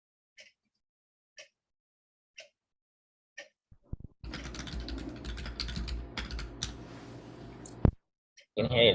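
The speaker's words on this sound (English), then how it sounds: "We heard you typing." Typing on a computer keyboard during an online prayer vigil call: a few sparse isolated key clicks, then a burst of rapid continuous clatter, fairly faint and alone before a voice begins near the end.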